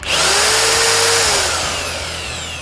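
Tech.AS TA-01-240 electric cement mixer running in second gear. A loud, steady motor whine starts abruptly, holds for about a second, then eases slightly lower and quieter.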